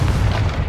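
A Confringo spell goes off in Hogwarts Legacy, a loud deep boom that rumbles continuously through the short moment.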